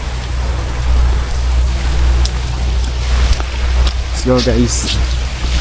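Heavy rain pours in a steady dense roar, with a low rumbling background and a person speaking briefly over it.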